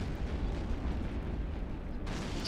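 Missile explosions hitting a spaceship in the EVE Online game rumble as a dense, continuous roar of overlapping booms, loud and steady, with a brighter burst near the end.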